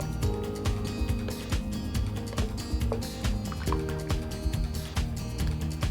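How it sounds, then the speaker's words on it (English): Chili beef and potato soup with Worcestershire sauce being stirred in a pot, with wet, dense sloshing and squishing running steadily throughout. "Give that a stir round. Get it all incorporated."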